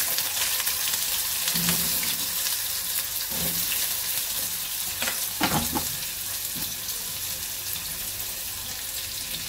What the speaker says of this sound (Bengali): তেলের উপর একটু পাঁচফোড়ন দেবো, আলুগুলো ভালো করে ভেজে নেব